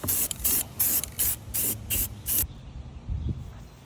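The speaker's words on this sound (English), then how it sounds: "Let's get spraying." Spray paint can sprayed onto Volvo 240 parts in short repeated hissing bursts, about seven close bursts with brief gaps, then stopping into quiet handling noise.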